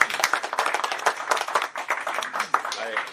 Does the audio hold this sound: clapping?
yes